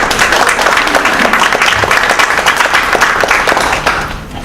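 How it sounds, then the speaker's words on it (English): Audience at a talk on employment issues for people with disabilities giving a round of applause, loud close clapping from a roomful of people, steady and dense before fading out in the final half second. "could we give him a round of applause?"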